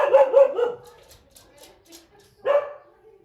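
A dog barks nearby in a house, a quick cluster of three barks, a pause, then one more loud bark.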